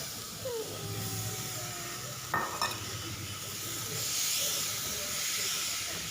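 Cooked green gram goes into masala sizzling in a pan with a soft hiss, a sharp clatter midway and quiet stirring, and the hiss swells faintly toward the end without any talking.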